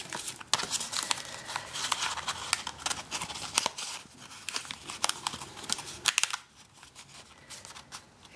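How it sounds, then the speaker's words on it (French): Scissors cutting out a small paper box for a gift card, with a close, steady run of crisp snips and paper rustles that stops near the end, leaving a quieter stretch. "Je vais découper sa boîte un petit peu."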